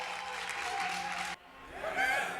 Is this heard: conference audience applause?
yes